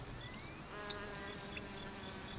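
Bees buzz in a steady, continuous drone with faint higher whines drifting in and out, close and even in loudness.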